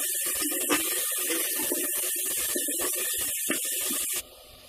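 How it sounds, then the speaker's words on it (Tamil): Chopped onion and ginger-garlic paste sauté in a pan for ration-rice tomato rice. A steady, close hissing sizzle is broken by small crackles and spatters, then drops abruptly to a quieter hiss near the end. "வெங்காயமும் இஞ்சி பூண்டு விழுது இப்போ ஆட் பண்ணி வச்சு நல்லா பச்சை வாசனை போகிற அளவுக்கு நல்லா வதக்கிக்கணும்"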